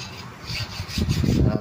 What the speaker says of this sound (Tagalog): Tapos na lagariin, kikil na lang.